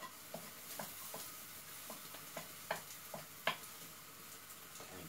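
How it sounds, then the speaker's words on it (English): An onion frying in a pan, stuck to the bottom and being stirred: a faint, steady sizzle broken by scattered light taps and scrapes of a utensil. "Give the onion a couple of minutes to fry."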